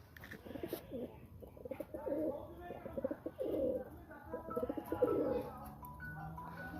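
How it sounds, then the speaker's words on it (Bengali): Two Rajshahi giribaj biscuit pigeons coo close by in repeated throaty, rolling bursts that swell and pause over several seconds. "অসাধারণ দুইটা কবুতর।"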